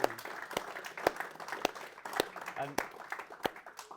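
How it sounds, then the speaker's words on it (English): An audience of a local society meeting breaks into applause for a guest speaker, a brief burst of sharp, irregular claps over about four seconds, fairly close and moderately loud. "Would you give Simon a big round of applause?"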